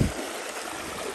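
Meltwater stream flowing down from snowy mountains near a small footbridge, a steady broadband rushing and trickling of water, moderately faint, after a brief bump at the start, with no talking.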